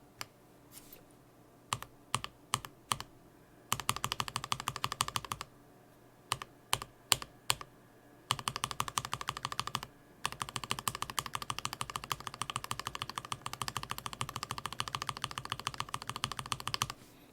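A keyboard fitted with lubed and filmed Alpaca v2 switches from the October 2020 molds clacks under close typing: scattered single keystrokes first, then dense, rapid runs of crisp clicks.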